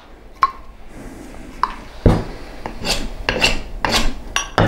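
Knife blade drawn across sandpaper fixed to a wooden block, stroked at a very steep angle to dull the edge: a run of loud, close rasping strokes with a few sharp taps, the scrapes growing more frequent toward the end.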